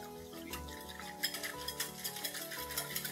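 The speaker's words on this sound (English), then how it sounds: "now I'm going to blend this well with a whisk" A whisk beats lemon juice and salt into a salad dressing, with steady clinking strokes against a bowl and light splashing. It sounds close and moderately quiet, with no talking.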